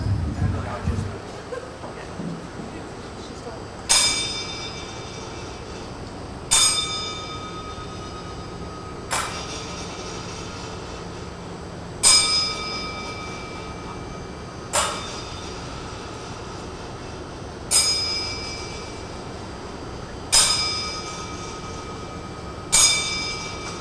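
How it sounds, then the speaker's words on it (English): A ten-bell salute rings out at a wrestling show, ten evenly spaced metallic bell strikes each ringing and fading in a quiet arena, following a brief murmur at the start. "So now, we just get a moment of silence for the 10-bell,"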